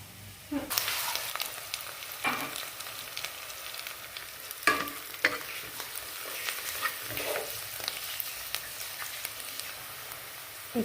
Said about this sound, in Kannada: ಸ್ವಲ್ಪ ಫ್ರೈ ಆಗಬೇಕು ನೋಡಿ